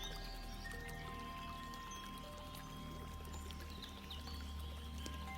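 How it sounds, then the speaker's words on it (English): Water pours and trickles steadily, a continuous splashing flow with small drips, close and unbroken. "I want you now to only pay attention to the sound of the water"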